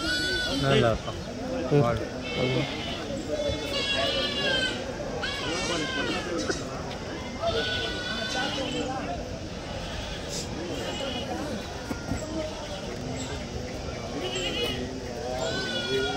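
Several goats bleat repeatedly, overlapping one another at close range at a sheep and goat market in Kadiri, while people talk in the background.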